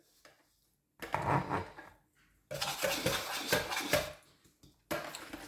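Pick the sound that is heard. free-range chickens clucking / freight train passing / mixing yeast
mixing yeast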